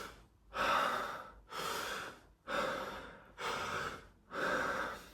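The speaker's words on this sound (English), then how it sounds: "I do 30 breaths of Wim Hof breathing" Five deep, loud breaths of Wim Hof breathing, each a strong full inhale followed by a relaxed release, repeating in an even rhythm close to the microphone, with no talking.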